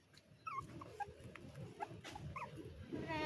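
Dog whimpering and yipping in short, high cries amid faint background rustle, with the sound staying quiet and somewhat distant throughout.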